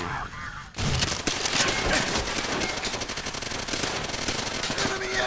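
Sustained enemy machine gun fire in the World War II shooter Call of Duty: World at War, a loud continuous rattle that starts abruptly and keeps going with dense rapid shots.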